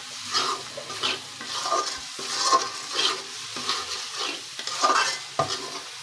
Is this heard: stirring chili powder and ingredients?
yes